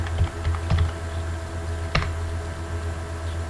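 Keys tapped on a computer keyboard while typing localhost into a browser address bar, a few quick clustered strokes early on and one sharp isolated click near the middle, close and clear over a steady low hum.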